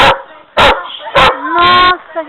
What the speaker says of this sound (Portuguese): Nossa, que cachorro bravo.